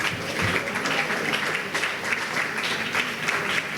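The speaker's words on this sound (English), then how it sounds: "Oh, please, let's clap." A crowd at a university law week celebration claps steadily, a dense sustained round of applause at moderate loudness with no clear speech.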